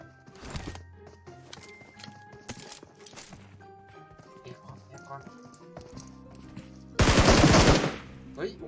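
Gunfire from a prone shooter in PUBG Mobile on the beta server of patch 1.5: scattered single shots and clatter, then a loud, sustained, rapid automatic burst near the end, with a voice talking over the game sounds.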